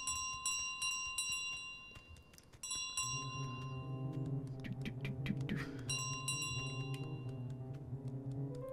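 Small bells ring in repeated bright jingling bursts as the goose carries them through the house in Untitled Goose Game, over soft game music and light footsteps.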